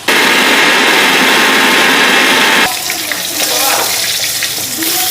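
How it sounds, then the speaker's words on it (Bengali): Rohu fish pieces fry in a pan of oil, with a loud, dense sizzle for the first half that drops abruptly to a quieter, uneven crackle with clinks and faint background noise. "তো মাছগুলির দিকে এক পিঠ ভাজা হয়ে গেছে আর এক পিঠ ভাজা হইব।"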